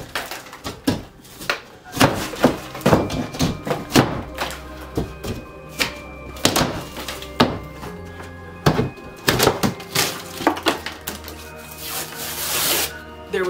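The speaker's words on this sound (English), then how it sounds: "So I had the blissful experience of taking the crowbar to the drywall." A crowbar tears out drywall during a reading nook renovation, making loud, close, irregular thuds, cracks and crumbling scrapes in rapid clusters with short gaps, and no voices over it.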